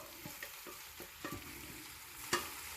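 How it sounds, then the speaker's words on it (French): Leeks tipped into melted butter in a pan sizzle faintly and steadily, with a few soft clinks and stirring knocks and one sharper clatter near the end; no one speaks. "le beurre il a fondu, ça commence à chanter, alors on verse les poireaux dedans"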